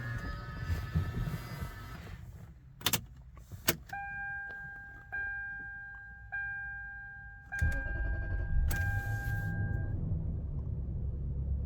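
A Lexus LS400 sedan with an ignition key: a couple of sharp clicks as the key goes in, a steady electronic chime sounding in repeated tones, then the engine catching and settling into a low, continuous idle close by.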